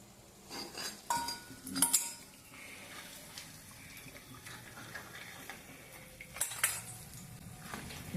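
Roasted black-eyed peas rattling and clinking against a pan as they are stirred over high flame, with bursts of tinny scraping around the start and again near the end, otherwise a quieter background rustle.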